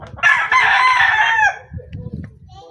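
A rooster crows once, loud and close, followed by softer clucks and faint background murmur.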